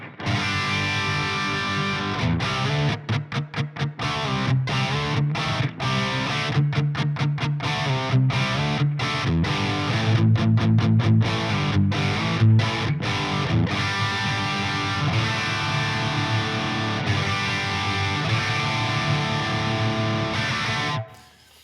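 Electric guitar through the Nembrini BG-EXTASY amp simulator plugin at its default setting, with distortion and reverb, rhythmic chugging chords with stops and bursts, played continuously before ending abruptly.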